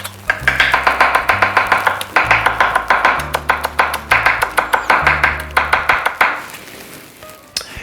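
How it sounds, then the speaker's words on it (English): Rapid knife chopping of marinade ingredients for a sweet and spicy Thai marinade, quick steady taps on a cutting board in repeated bursts with short pauses, close and clear, fading out at the end. "Next, you're gonna wanna give this a really fast chop."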